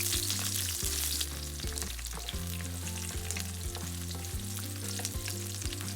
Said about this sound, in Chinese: 热锅起油，用小火将大蒜和洋葱炒至金黄后